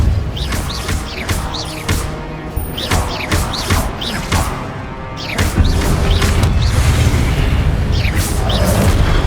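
The Confringo explosion spell being cast in Hogwarts Legacy: a run of repeated sharp blasts and crackling impacts over a dense, continuous background of game noise and music.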